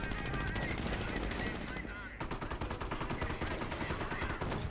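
Rapid machine-gun gunfire in the World War II strategy game Company of Heroes, loud and continuous bursts of crackling shots with battle noise and faint commentary beneath.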